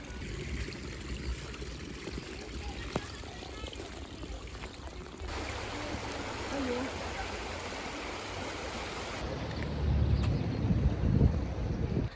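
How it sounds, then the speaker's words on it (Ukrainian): Small mountain stream trickling and flowing steadily into a river in the Carpathians near Slavske, heard outdoors with broadband water rush and some wind, growing louder toward the end, with faint voices in the background. "Тут ось дивіться, який струмочок тече маленький."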